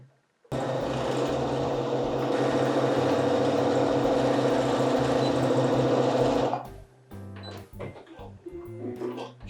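A sewing machine stitching fabric runs loud and steady for about six seconds, a fast continuous mechanical whir, then stops, followed by softer handling clatter and brief movement sounds.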